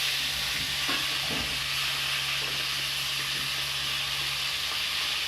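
Onion frying in a pan with chili, bay leaf, panch phoron and fish bones gives off a steady, loud sizzle and hiss. A few scraping stirs come early on, and no one speaks.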